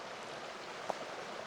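Close, continuous rush of Rodgers Creek flowing through Tehipite Valley wilderness, a steady hiss of water over rocks with one brief splash or drip partway through and no talking.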